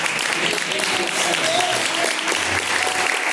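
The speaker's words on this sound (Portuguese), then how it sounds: "Palmas para louvar." Steady, dense congregational applause fills a church service praise moment, continuous and fairly loud throughout with a faint murmur of voices beneath.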